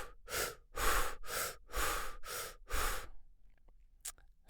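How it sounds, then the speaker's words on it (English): Deep, rapid holotropic-style breathing: six strong, forceful breaths in a quick steady rhythm, close and loud, followed by quieter shallow breaths and small mouth sounds. "all it is just breathing like this"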